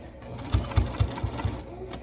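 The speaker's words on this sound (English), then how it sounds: "you're gonna top stitch 1/8 of an inch away from the edge" A sewing machine top stitching the edge of a fabric face mask, its needle thumping in a steady rapid rhythm under a continuous motor hum, close and fairly loud.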